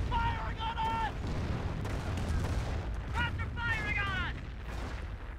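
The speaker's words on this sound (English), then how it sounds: "They're firing on us!" Enemy gunfire and artillery rumble in Company of Heroes, a dense, continuous battle din with distant booms, overlaid by short radio-style unit voice lines.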